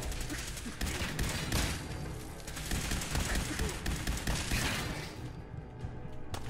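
Dense gunfire in the video game Fallout 4, rapid shots and impacts layered over one another in a sustained loud barrage that tapers off near the end.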